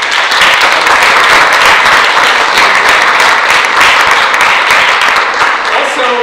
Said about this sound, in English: So everyone, please give Hal a round of applause